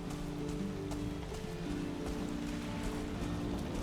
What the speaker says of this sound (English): Well, of course it's raining.